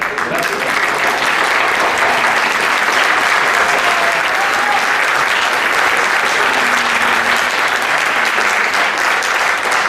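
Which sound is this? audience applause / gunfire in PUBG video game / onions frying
audience applause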